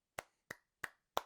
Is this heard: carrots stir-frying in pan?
no